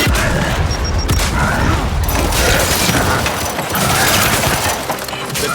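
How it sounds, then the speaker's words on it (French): Loud, continuous battle din in the video game Gears of War 5, with a booming grenade explosion and rapid gunfire crashing over one another, dense and close throughout with no pauses. "Je lance une grenade!"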